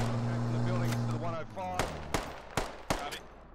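Gunfire from an automatic rifle in a video game military operation, several sharp separate shots or short bursts spaced out over about two seconds, heard over steady game background noise and an earlier low hum.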